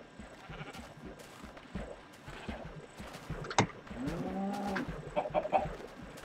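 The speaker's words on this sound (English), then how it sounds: "There's a sheep! The sheep in my house!" A sheep in Minecraft bleats inside a house, several wavering bleats coming in quick succession near the end, heard over soft footsteps and game noise with no speech.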